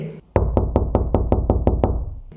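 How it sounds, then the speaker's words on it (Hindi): A cartoon door is knocked on in a quick, even run of about nine sharp, loud raps, with no other sound around them. "सुबह के होते ही करिश्मा चिड़िया के दरवाजे पर दस्तक होती है।"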